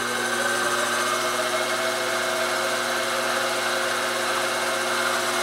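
A Grizzly G0759 milling machine runs steadily in high range, producing a constant, close motor whine with a buzzing mechanical hum and no change in pitch, unbroken by speech.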